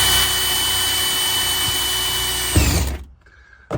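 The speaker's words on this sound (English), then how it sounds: "Drilling the holes is pretty simple. Cordless drill," A cordless drill with a step bit bores through thin truck sheet metal, a loud steady whine that holds for nearly three seconds, then drops away as the bit breaks through and the motor spins down.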